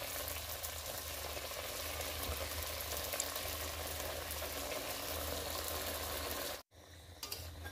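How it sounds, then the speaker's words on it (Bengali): Snacks made from flour and potato deep-fry in hot oil with a continuous loud bubbling sizzle that cuts off abruptly near the end, after which only faint clinks remain. "ও আর এক রকম যা বানিয়েছিলাম ওটাও ভেজে নিচ্ছি"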